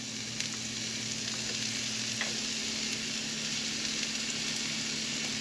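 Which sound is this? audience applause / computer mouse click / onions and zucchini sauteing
onions and zucchini sauteing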